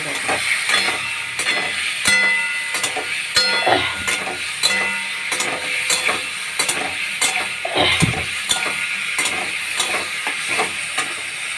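Soybean chunks and potato sauté in a pan under a loud, dense sizzle, with frequent clacks and scrapes of a stirring utensil against the pan and no talking.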